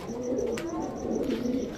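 Jira pigeons cooing softly in a loft, a steady low murmur of overlapping coos running through the whole moment with a faint repeating chirp above, fairly close and without speech.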